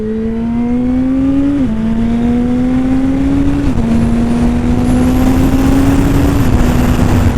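A Kawasaki ZX12R motorcycle engine revs loud and close, its pitch climbing and then dropping sharply at three quick-shifter upshifts spaced a couple of seconds apart.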